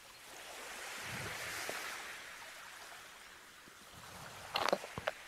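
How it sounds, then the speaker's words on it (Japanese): Ocean wave sound effect in a virtual reality pool background: a soft, steady wash of surf noise, fairly faint, swelling slightly, with a few brief sharp clicks near the end. "何の音、 波の音とかっすよね。"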